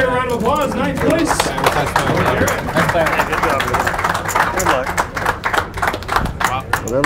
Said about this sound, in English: Let's give Garrett a round of applause.